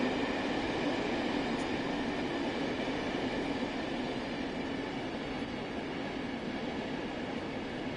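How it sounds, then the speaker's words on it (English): A constant loud rumbling drone of a diesel locomotive engine in the video game Train Sim World 6, with a steady rolling rail noise and no letup throughout. "I do like the noise of those tractors."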